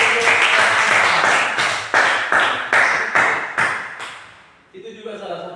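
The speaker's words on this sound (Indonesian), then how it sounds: "kasih tepuk tangan dong si Gio." A few people clapping together in loose bursts, fairly close and loud, fading out near the end as a voice starts up.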